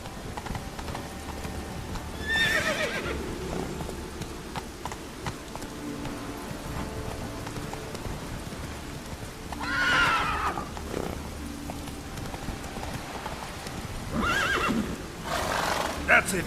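Geralt's horse Roach in The Witcher 3 Wild Hunt, with repeated whinnies and neighs over a steady clip-clop of hooves and light rain, several neighing bursts spread across the stretch while someone speaks.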